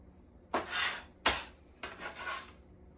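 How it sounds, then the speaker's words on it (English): A knife slices through celery stalks on a cutting board while preparing a French Christmas Noel dinner: three close, raspy cutting strokes, the middle one starting with a sharp chop, with no talking. "So now we're going to go ahead and cut up 2 cups of celery."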